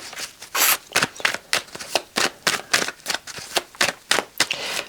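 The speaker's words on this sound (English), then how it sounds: "Shocking shuffling skills as usual." A deck of cards is riffled and shuffled repeatedly, a quick run of crisp rattling bursts close by with no talking.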